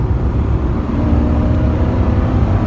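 A Ford pickup with a 5.5 liter engine cruises along, heard from inside as a steady low rumbling drone of engine and road noise, loud and unbroken.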